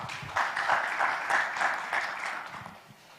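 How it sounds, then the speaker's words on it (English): Audience applause at an insurtech program event as presenters come on stage, a steady wash of many hands clapping that swells after a moment and holds before tapering off. "A round of applause as they also come on stage"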